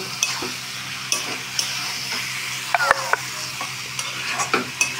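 A spoon scrapes and stirs soft cooked young jackfruit curry in a pan, faint sizzling underneath, with irregular clinks and knocks against the metal at close range.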